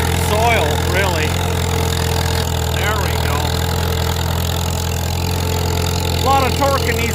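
An old Farmall M tractor pulls a 13.6-foot set of discs through wet ground, its engine a steady, loud, low drone throughout, with a few chirping birdlike sounds over it.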